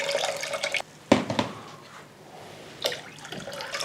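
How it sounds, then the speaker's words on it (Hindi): Water drains off overnight-soaked lentils, including moong dal, during cooking. Close splashing and trickling pours come in bursts with a brief pause between them. "अब इन तमाम दालों का पानी हम रिमूव कर लेते हैं।"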